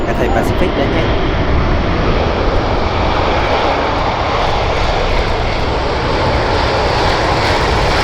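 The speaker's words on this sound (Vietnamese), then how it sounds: "Đầu tiên chúng ta sẽ tới với Boeing 747-400F Cathay Pacific đấy nhé." A Cathay Pacific Boeing 747-400F cargo jet at Tan Son Nhat airport gives a loud, steady, broadband engine roar that holds without a break, close and dominant throughout.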